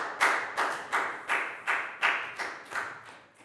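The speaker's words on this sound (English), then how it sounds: "a big round of applause for Proud, please, guys." A Year 4 class in a maths lesson claps together in a unison rhythm, about eight crisp, evenly spaced group claps sounding near and fairly clear, growing slightly softer toward the end.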